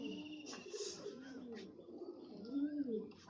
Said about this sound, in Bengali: এ হচ্ছে কবুতর